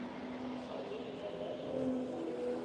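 A Subaru pulls away at a Tire Rack One Lap of America track event, its engine a faint, steady drone at a distance, with some faint background voices.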